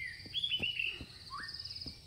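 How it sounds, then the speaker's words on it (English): Birds chirping and singing on a pretty day in a spooky video game, a few bright tweets and rising calls over a soft, steady insect-like background hum. "The birds are singing."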